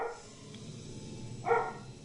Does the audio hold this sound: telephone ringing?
no